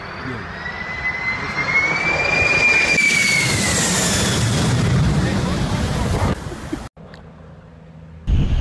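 Boeing 747 firefighting super tanker aircraft passing with a loud, sustained jet engine roar and a rising whine, steady for several seconds before abruptly cutting off; a voice speaks over it.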